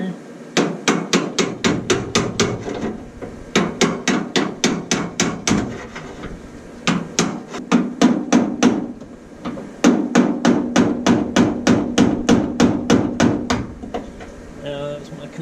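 Sharp, loud hammer blows strike a rusted-shut metal latch in rapid bursts of about ten evenly spaced hits, broken by short pauses, close to the listener.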